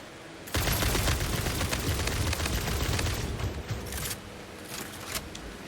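Homing bullets fired in Satisfactory, a sudden loud onset of dense, rapid shooting that keeps up for several seconds with a few sharper cracks toward the end, and no one talking.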